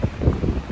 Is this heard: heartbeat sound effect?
no